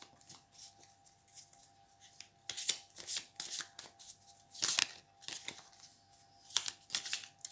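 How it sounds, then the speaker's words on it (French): Tarot cards riffled and shuffled by hand, then drawn and laid down, in quick close bursts of papery flutter and snaps over a faint steady hum, with no speech. "Donc je tire plusieurs cartes."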